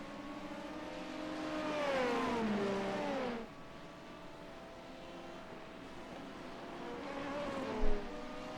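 Engines of LMP2 and Hypercar race cars in a racing sim, with a near car rising in pitch and fading, a steady drone, then another car revving up and passing close, with no talking.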